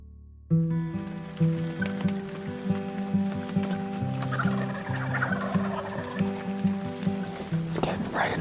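Wild turkeys gobble from roosts in the trees at dawn in Ontario, repeated rippling calls close and clear over a quiet outdoor background, with soft talking in places.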